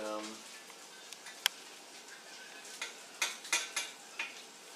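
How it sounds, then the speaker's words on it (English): A spoon stirs hot coffee in a cup, a string of light metallic clinks and taps against the ceramic, close up, after a short burst of speech at the start. "That coffee is really hot. And this is how I stir."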